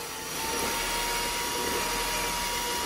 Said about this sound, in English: Little vacuum pump there. That sounds beautiful.